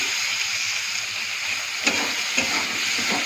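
Food frying in a pan with chopped tomato and salt added, stirred with steady sizzling and a couple of sharp scraping strokes near the end, no voices.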